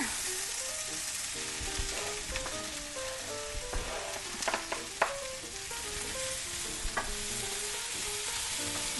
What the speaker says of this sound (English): we'll bring it over to saute those with everything else we have going on over here